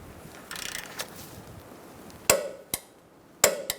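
A torque wrench tightens the lower control arm ball joint castle nut on a 2002-2006 Honda CR-V, giving a few sharp, close metallic clicks and ratcheting snaps over faint rustling, with no talk.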